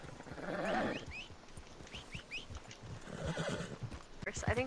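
A horse in a video game whinnies in a loud, nearby burst, then gives shorter neighs and snorts over scattered hoof clops, while someone talks throughout.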